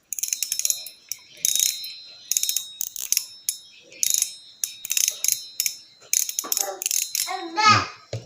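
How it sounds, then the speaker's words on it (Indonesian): A Getsu Kakap Merah fishing reel's drag clicker ratchets in short, dry, high-pitched bursts of rapid clicks, close up, with brief pauses between spins and a voice near the end. "Saya akan perdengarkan deringnya dulu, nih klikernya"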